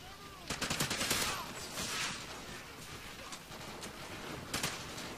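Video game gunfire crackles in rapid bursts, with sharp repeated shots loudest near the start and again just before the end, set over constant game background noise.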